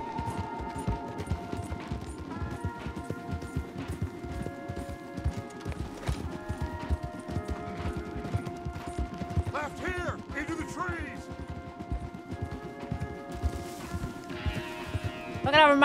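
Several horses gallop together in Red Dead Redemption 2, with a steady run of hoof beats, tack creaks and rustling, accompanied by game music and a brief whinny near the end.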